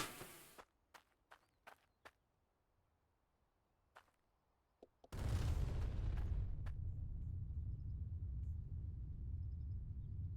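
A dynamite blast in the mining game Hydroneer goes off after several sharp clicks and taps, then a loud sudden boom swells into a heavy, sustained low rumble that fills the rest of the moment with no talk.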